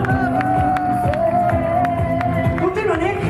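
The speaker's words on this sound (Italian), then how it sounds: "Fatemi sentire l'applauso per Nick su Sex." Concert audience cheering, whooping and clapping for a saxophonist at Cala dei Balcani, loud and sustained, with a voice shouting over the crowd.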